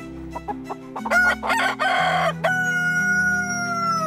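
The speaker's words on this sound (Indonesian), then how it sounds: "Seketika itu juga, sementara ia berkata, berkokoklah ayam." A rooster crows loudly and close, opening with a few short clucks before breaking into a long drawn-out cock-a-doodle-doo that fades on a sustained final note, with no voices.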